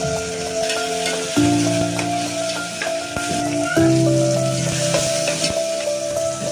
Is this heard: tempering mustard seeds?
yes